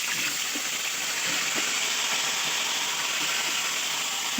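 Salted, turmeric-coated cauliflower florets frying in hot oil in a pan for a fish curry, giving a steady, even sizzling hiss with faint crackles throughout.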